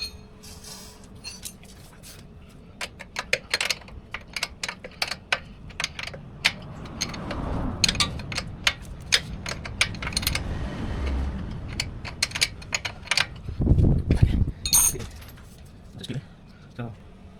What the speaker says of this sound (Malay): Dan akhir sekali kita ketatkan skru sini